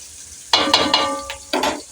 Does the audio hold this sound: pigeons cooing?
no